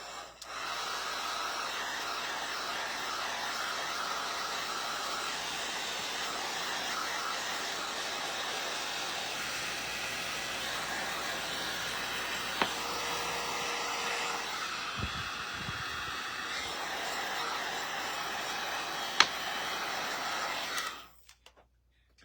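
A hair dryer blows steadily to dry fresh paint on a wooden birdhouse, a continuous even whooshing hum with a few small knocks near the end before it cuts off abruptly.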